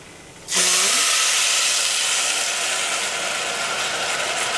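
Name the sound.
water poured into hot pan sizzling with bulgur and noodles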